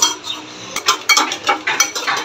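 A spoon scraping and knocking around a bowl while pound cake batter is stirred, sharp irregular clinks and scrapes in quick uneven bursts, close and fairly loud.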